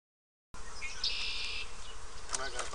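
Honeybees buzz densely and close by as a beehive is opened for inspection, a steady droning hum that starts abruptly after a short silence, with higher whining tones from individual bees flying near.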